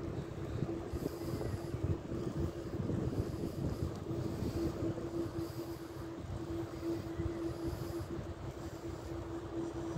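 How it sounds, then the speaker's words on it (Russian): Wind rushes steadily against the microphone while cycling along the Danube riverbank, a constant low buffeting roar with no talk. "Когда едешь, сумасшедший ветер."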